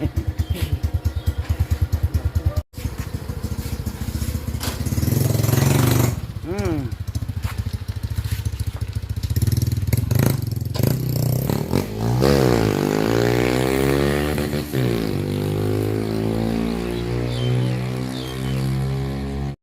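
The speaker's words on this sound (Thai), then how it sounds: "อ่ะขับมาแล้วรู้สึกไงครับ ได้แคมใหม่ แรงกว่าเดิมรู้สึกว่าบิดแล้วขึ้นเร็วไหม" A motorcycle fitted with a new upgraded camshaft thumps along loud and close, its engine note rising and falling through several revving sweeps as it accelerates, with a brief cut near the start and voices talking at times.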